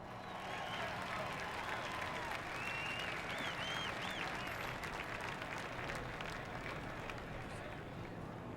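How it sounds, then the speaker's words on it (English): A crowd of race fans cheers at Talladega Superspeedway for a NASCAR Truck Series race. The roar and applause are steady and broad, with a commentator's voice faintly over it. "Listen to the crowd."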